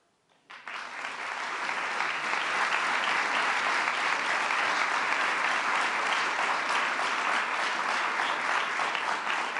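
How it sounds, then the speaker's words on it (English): Applause at an International Women's Day awards ceremony swells up after a quiet start and holds as sustained, dense clapping from a large audience. "And I wish they could be here to hear your applause."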